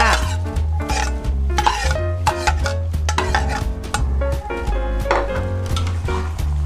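Pork with salted egg, red chili and spring onion stir-fried in a pan, with continuous close scraping and clattering of a utensil against metal over a steady sizzle, loud and busy throughout.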